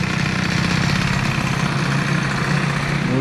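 A Stage6 65 moped engine with a new piston idles steadily and loud and close, its rapid, even putter holding throughout, with the revs easing down only slightly.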